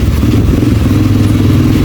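A motorcycle rides through city traffic on Shaw Boulevard shortcuts from Pasig toward Santa Ana, Manila, its mid-pitched engine droning steadily and close with a clattery rumble throughout, no talking.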